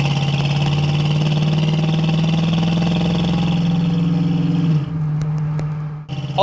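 A 1972 Ford Mustang Mach 1 with its numbers-matching 351 V8 cruising at a steady, even drone, then the engine note drops and eases off near the end as the car slows.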